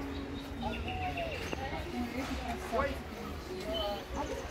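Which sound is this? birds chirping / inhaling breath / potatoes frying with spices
birds chirping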